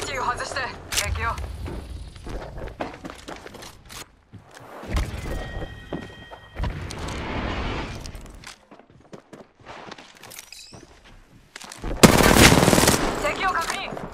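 Automatic and single gunfire in the video game Apex Legends, loud bursts recurring throughout with footsteps and thumps, and a dense burst near the end; voices talk between the shots.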